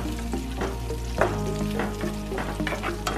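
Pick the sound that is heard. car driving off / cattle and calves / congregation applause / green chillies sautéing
green chillies sautéing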